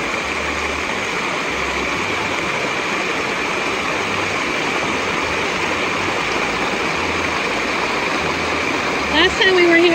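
Water spills over the top of a small pond above Charco Azul after some rain, a continuous broadband rushing roar at a steady level with a brief louder bump near the end.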